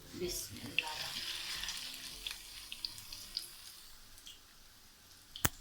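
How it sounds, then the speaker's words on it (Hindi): Chicken chapli kababs made with minced chicken and gram flour frying in a pan, a soft steady sizzle with scattered crackles and a sharp clink near the end. "ये देखें जी हमारे कबाब कितने अच्छे से फ्राई हो रहे हैं।"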